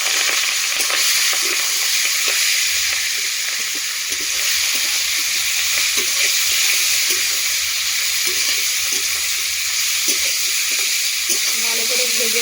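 Meat frying in hot oil in a heated wok, giving a steady, close, dense sizzle with faint stirring scrapes running throughout, no talk over it.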